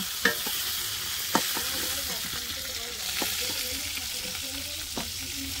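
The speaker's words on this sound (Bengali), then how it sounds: "পটলগুলো এরকম লাল লাল করে একটু ভেজে নিতে হবে" Pointed gourd (potol) frying in oil in a pan while being stirred, a steady sizzle punctuated by a few sharp scrapes and clinks of the spatula at irregular intervals.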